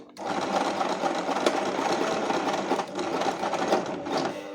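Sewing machine running steadily and loudly through a French seam, a continuous dense mechanical whir with slight dips in speed, no talking.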